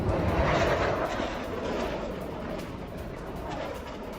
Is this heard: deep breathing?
no